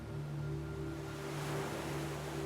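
Ocean waves wash in a continuous, soft broadband roar, faint and steady with a gentle swell, alone without voices.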